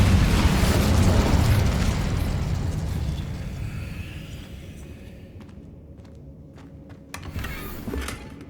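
Incendio fire spell cast in the Hogwarts Legacy video game, a heavy burst of fiery whooshing and crackle that starts loud and slowly fades, followed by a few sharp clicks and a smaller flare near the end.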